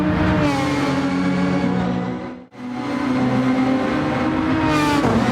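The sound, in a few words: race car slowing on track, racing video game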